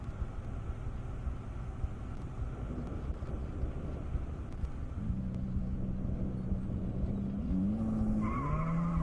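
Drag race cars launch on a half-mile airstrip course with a broad, rumbling roar, and wind buffets the microphone. Rising tire squeal and engine tones climb in pitch toward the end.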